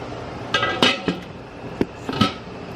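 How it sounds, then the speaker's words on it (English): A metal lid goes onto a canning pot of boiling water while jalapeños and blackberries are preserved, giving several close clanks and clinks of metal on metal, with no talking. "then put your lid on, and then start the timer"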